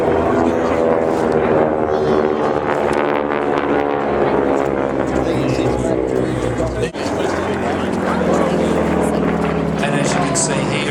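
A CAC Wirraway propeller aircraft flies past at the Temora airshow, its engine droning loudly and steadily with tonal harmonics while someone speaks over it continuously.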